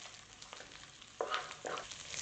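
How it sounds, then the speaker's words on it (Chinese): Minced sausage hits hot oil in a wok and stir-fries with a soft close sizzle and a few scraping stirs of the spatula, quiet overall. "放入香肠末炒香"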